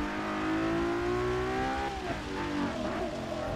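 Ferrari engine racing in Forza Motorsport 6, a loud close revving drone that climbs steadily in pitch, drops sharply at a gear change midway, then climbs again, with no talk over it.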